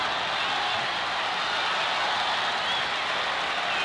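Tennis crowd at a US Open final applauding around match point, a dense steady wash of clapping that holds at even loudness throughout the short stretch, with no talk over it.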